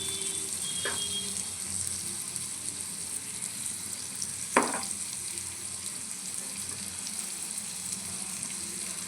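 Chilli powder fries in hot oil over a low flame for a gooseberry pickle, a steady close sizzle with two sharp stirring knocks, one faint and one louder.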